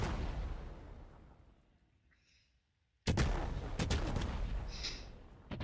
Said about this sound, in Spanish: Explotó otra casa.